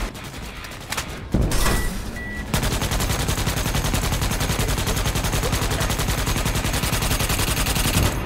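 A video game gun fires a few single shots, then sustained rapid automatic bursts ring out loud and close in a fast, relentless rhythm.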